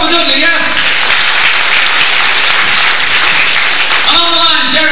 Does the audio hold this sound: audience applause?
yes